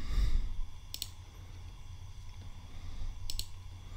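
Two sharp computer mouse clicks, about two seconds apart, ring out close over a quiet room hum while a part is sketched in SolidWorks CAD software.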